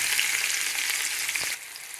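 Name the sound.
tomatoes frying in a pan for spinach curry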